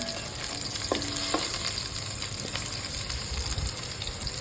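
Flattened rice upma ingredients sizzle steadily in hot oil while being stirred, a close, continuous crackling fry with faint scraping of the spoon and a few brief clinks, and no talking.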